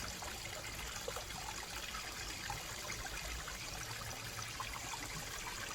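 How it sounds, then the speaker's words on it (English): The Coosa River in Alabama flows steadily, a faint, even wash of trickling water with no breaks, heard alone and without speech. "I'm by the Coosa River"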